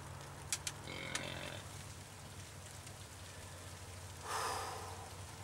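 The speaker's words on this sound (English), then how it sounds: "Rain's just starting to pick up too." Steady rain falls outdoors during a deer hunt, a continuous broadband hiss that swells briefly louder, with a few sharp close ticks and a faint low drone underneath.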